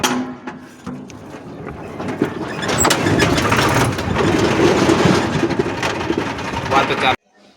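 A tractor engine chugs with a rough, steady rumble that swells and then cuts off abruptly, while people talk over it.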